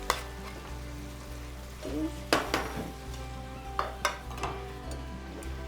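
Tuna being stirred and broken up in a pan with pasta, with soft sizzling and a low steady hum underneath and several light clinks and scrapes of a utensil against the pan.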